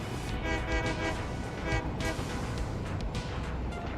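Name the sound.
train horn honking in the video game Satisfactory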